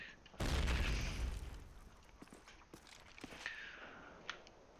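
A grenade blast in Call of Duty 1 on the Dawnville map, one loud booming burst decaying over a second, followed by scattered footsteps and small impacts at a distance.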